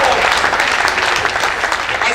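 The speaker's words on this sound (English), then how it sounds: "Clap for them." An audience claps steadily through the whole stretch at a speech event, a dense, even wash of many hands.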